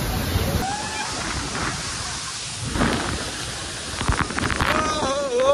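Rushing water at Rautwadi waterfall during monsoon rain, a steady broad roar that holds through the clip while crowds talk and call out in the background.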